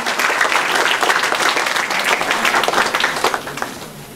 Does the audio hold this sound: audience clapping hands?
yes